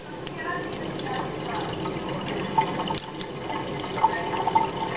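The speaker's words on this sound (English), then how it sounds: "we could pour this directly into the kitchen sink because it's just salt water" Salt water pours in a steady stream into a kitchen sink, a continuous close splashing and trickling with a few louder drips and sloshes toward the end.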